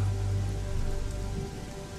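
Steady rain falls on a dark, quiet night road, a dense continuous hiss of drops hitting surfaces with no voices.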